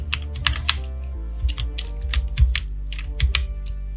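Quick, uneven bursts of clicking keys on a computer keyboard, close and crisp, with short pauses between clusters of keystrokes and no voices.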